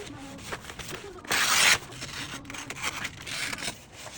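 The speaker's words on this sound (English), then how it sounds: "And cut it out." Scissors cutting through a taped-together paper sewing pattern for a dress, a soft rasping snip with one louder burst of crinkling paper midway, close and quiet.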